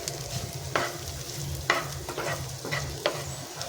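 Chopped capsicum, cabbage and carrots are stirred in a pan with a spatula, giving soft frying sizzle under several distinct scraping knocks spaced about a second apart, close and moderately loud.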